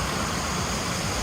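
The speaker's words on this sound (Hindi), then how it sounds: "पानी की आवाज आ रही है" Steady rushing water flows outdoors in Whistler Village, Canada, a continuous broadband roar like a stream or small waterfall close by, even in loudness throughout with no voices.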